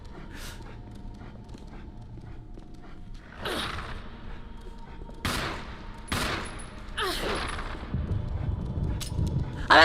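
Scattered video game gunshots, a few loud bursts spaced several seconds apart among fainter pops and background game noise.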